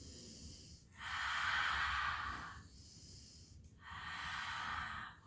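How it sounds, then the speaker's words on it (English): A child does a loud breathing exercise during a kids' yoga session, two long, forceful breaths, each a rushing airy exhale lasting a couple of seconds with a short pause between. "Let me hear you breathe."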